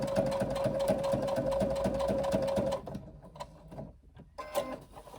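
A sewing machine stitches a JoJo handbag in a quick, regular mechanical chatter for nearly three seconds, then stops, leaving a few faint clicks and handling noises.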